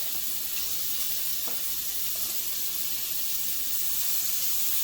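Four bacon slices cut together sizzle in a hot pan, with a steady, moderate crackle, an occasional light clink, and no voices.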